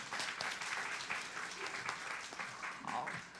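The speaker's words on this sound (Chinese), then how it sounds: "我们拍手来欢迎" Quiet, distant clapping from a church congregation welcoming someone, steady for a few seconds, with murmuring voices mixed in.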